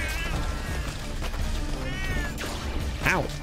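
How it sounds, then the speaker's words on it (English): Cat-like enemies in the video game Death Must Die let out several short meows amid busy game effects and music, including a rising wail near the end. "They do make cat noises."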